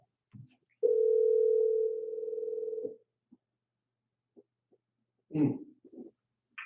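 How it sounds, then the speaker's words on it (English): A single steady telephone tone runs for about two seconds, loud and clean, as a call connects on a live call-in show, followed by quiet gaps and a short burst of noise near the end. "Phone is ringing. Ring, ring, ring, ring, ring, ring, ring."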